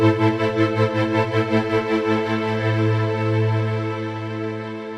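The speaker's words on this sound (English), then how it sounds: "as you move the mod wheel, you get this side chaining pumping effect" A sustained, serene synth pad swells and ducks in a steady pumping rhythm from a side-chain effect driven by the mod wheel, the pulses clearest early and smoothing out toward the end, played alone.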